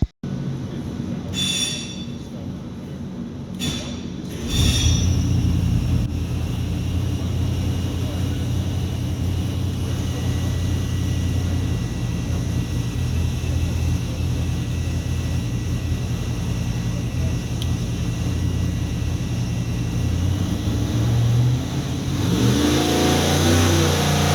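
A Chevy small block engine roars steadily on a dyno pull, loud and sustained for over twenty seconds after a brief buildup, with the revs swelling near the end.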